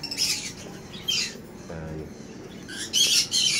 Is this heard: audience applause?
no